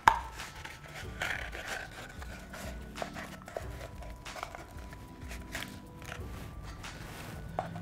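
A plastic bottle or tube being cut to size for the body of a sculpture, with repeated scraping, rasping strokes at close range and no talk over them.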